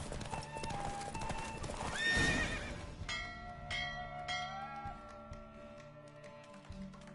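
Horse hooves clatter and pound rapidly during a horse race in The Witcher 3 video game, with a brief whinny, easing into slower, fainter clops at the end.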